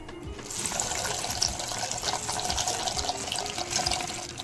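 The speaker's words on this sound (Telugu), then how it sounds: "ఇప్పుడే పాస్తా వేసా దాంట్లో" Macaroni pasta dropped into a pot of boiling water, giving a steady, fairly loud rushing and bubbling wash that holds throughout with no talking.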